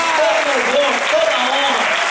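Church congregation applauds loudly and continuously during a testimony service, a dense wash of clapping with voices rising and falling faintly within it.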